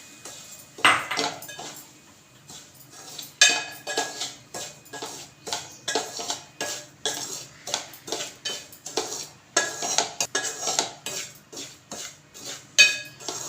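Bombay rava (semolina) dry-roasting in a pan for rava laddu, stirred with a spoon that gives a steady run of close scraping and light clinking strokes, with no talking.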